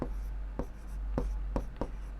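Chalk or pen writing on a board during a Class 10 maths lesson on real numbers, a few distinct taps and strokes spaced apart over a low steady hum, no voice.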